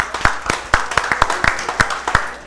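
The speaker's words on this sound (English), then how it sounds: "Let's give ourselves a round of applause." A small audience at a speech festival in Grenada claps in sparse, distinct, uneven claps, close and fairly loud, with no dense roar of applause.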